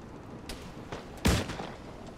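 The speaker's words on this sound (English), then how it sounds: "Get ready to fire all these cannons in line." A cannon fires once during a Nassau 1715 community reenactment event, a single fairly distant boom that rises briefly above a low background.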